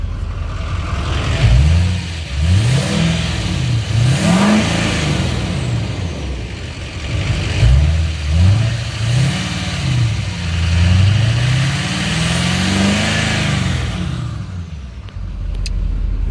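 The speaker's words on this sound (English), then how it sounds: "Give it a few revs real quick." 2011 Chevrolet Silverado 2500HD 4WD with a 6.6L Duramax diesel and 200K miles, revved repeatedly from idle: two sets of rising and falling revs, loud and close, with a steady diesel clatter between them and no talking.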